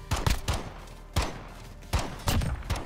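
Pistol shots in the video game Call of Duty Modern Warfare, a few sharp separate bangs in small clusters with short gaps between them, near and punchy over a low background hum.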